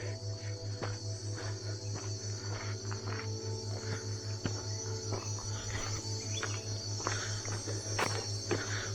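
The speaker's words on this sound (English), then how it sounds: "I guess cicadas are probably making that noise" Cicadas buzz and trill steadily in dense jungle near Chiang Mai, Thailand, a continuous pulsing drone with a few faint scattered ticks and rustles.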